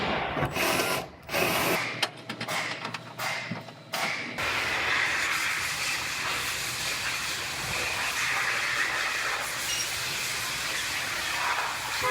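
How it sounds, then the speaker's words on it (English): A power drill runs in loud bursts, drilling a hole in a damaged Nissan's rear body panel, starting and stopping several times, then gives way to a long, steady grinding whine. "I'm gonna drill a hole right here"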